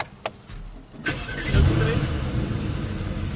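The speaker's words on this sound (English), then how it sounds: "So let's actually start this car up now" A few clicks, then a Mercedes E63 S engine cranks and catches, settling into a steady low idle rumble close by.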